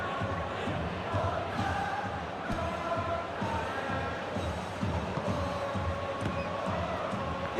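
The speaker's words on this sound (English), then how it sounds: "the crowd have tried to spark some excitement, but to no avail" Video-game stadium crowd from Football Life 25, a steady broad roar of spectators that sits at an even level throughout with scattered louder swells, no distinct chants.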